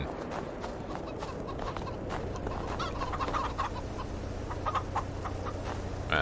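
Chickens on a farm in Farming Simulator 22, clucking and squawking repeatedly in an irregular run of short calls over a steady low hum, close and moderately loud.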